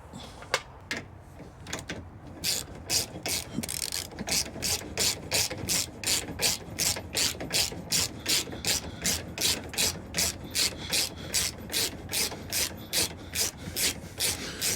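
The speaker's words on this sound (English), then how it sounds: "You might have to give some force from a ratchet driver" A ratchet driver tightens the mounting bolts of a rear recovery tow hook base on a Hummer EV SUV bumper. It sounds as close, loud, evenly spaced clicking strokes that repeat steadily for most of the clip, with no talking.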